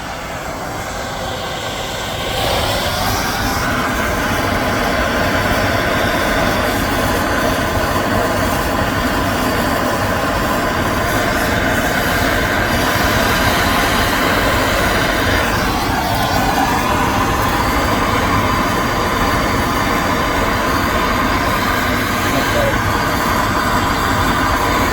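Large torch flame roaring steadily while heating a twisted copper armring for fusing its ends, a loud continuous rushing hiss that starts after a brief quieter moment and holds unbroken.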